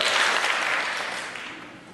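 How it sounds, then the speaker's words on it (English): Audience at a startup pitch day event applauding after a video, a broad burst of clapping that starts strong and slowly fades out. "And a rousing one clap for our video."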